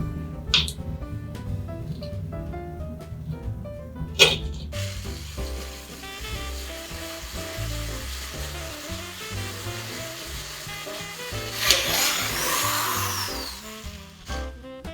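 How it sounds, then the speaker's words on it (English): A small drill bores a hole into a homemade Mickey ornament, running with a whirring, grinding tone punctuated by sharp clicks, and rising into a louder, harsher burst near the end. "now when you're drilling, you want to drill in slow so that it gives it a chance to get caught"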